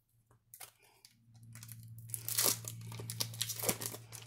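A foil Double Masters trading card booster pack is torn open close up, with crinkling and tearing bursts that build over a few seconds, fairly quiet and with no talking.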